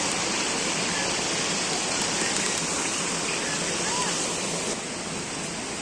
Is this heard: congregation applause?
no